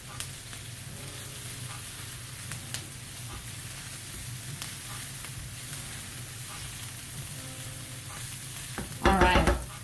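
Garlic fries in a hot skillet and a spatula stirs it, making a steady sizzle throughout with a louder burst of scraping and stirring near the end.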